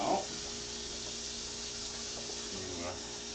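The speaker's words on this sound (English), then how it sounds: "rinse out some of the bits here. Come on, down the sink you go" Kitchen tap water runs into a sink, rinsing leftover food bits down the drain during meal prep with pork chops; a steady, close, even rushing hiss fills the whole stretch, with a brief louder splash at the very start.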